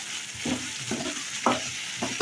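Onions and tomatoes sautéing in a pan for brinjal thokku, a steady close sizzle broken by four soft stirring scrapes spaced about half a second apart.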